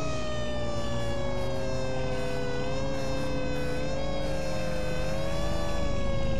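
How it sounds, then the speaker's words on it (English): A steady, loud fire engine siren wails continuously in the Fire Engine Simulator video game, its rising and falling tone sustained over a low engine rumble with no talking. "Let's put our siren on here."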